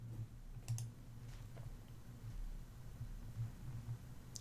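Quiet, sparse mouse clicks while working in Microsoft Word: a few sharp, isolated ticks over a soft background hum, with no talking.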